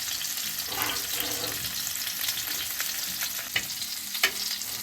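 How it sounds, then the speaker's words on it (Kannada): Mullet fish fries on a tawa over a low flame with a dense, continuous sizzle and crackle, with a few brief pops and scrapes near the end. "ಫ್ರೈ ಆಗ್ತಾ ಇದೆ ನೋಡಿ"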